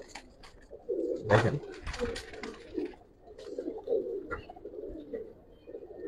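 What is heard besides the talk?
pair of Giribaz pigeons cooing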